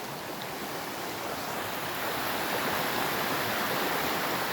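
A flooded creek rushes past, a loud continuous roar of water that swells slightly louder partway through, heard alone with no voices.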